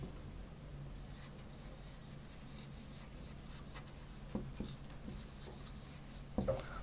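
Math solution being written out by hand, a faint, steady scratching of pen or chalk with a few slightly louder taps and strokes near the end, close and quiet with no talking.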